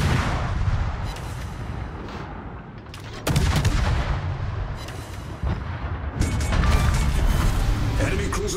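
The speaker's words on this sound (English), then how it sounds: "Concentrate fire on that enemy warship." Warship artillery fire in the World of Warships video game: heavy booming salvos with sharp onsets near 3.3 and 6.2 seconds over a continuous rumbling battle bed, loud and dense, with speech mixed in.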